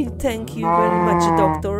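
A cow gives one drawn-out, loud, close moo, with a person speaking just before and after it.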